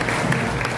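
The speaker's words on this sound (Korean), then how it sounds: "결의문에 대한 동의 표시로 모두 큰 박수 부탁드리겠습니다" Brief burst of dense crowd applause in a hall at the launch ceremony of the 21st Democratic Peaceful Unification Advisory Council Gyeongbuk regional meeting in Gumi, steady and loud throughout.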